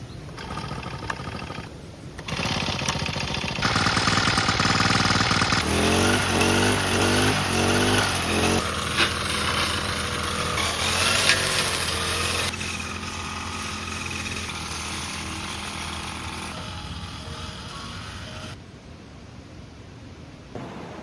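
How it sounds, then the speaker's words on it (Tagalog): A brush cutter clearing thick grass runs continuously with a loud, buzzing engine whine that shifts in pitch and intensity as it cuts, close and steady for most of the stretch. "mag-brush cutter muna tayo"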